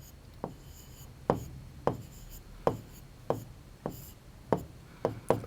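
During a class 3 maths lesson on time, a hand writes on a board, producing about nine sharp scratching strokes in an uneven rhythm, close and fairly quiet, with no talk.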